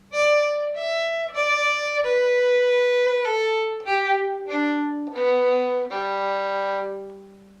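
A fiddle plays a phrase from "The Old Red Barn," clear single bowed notes that close with a descending arpeggio run, played alone and close.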